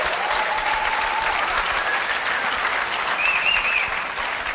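Conference audience applauding steadily and fairly close, a dense even wash of clapping with a few faint whoops, sustained throughout and tapering slightly at the end.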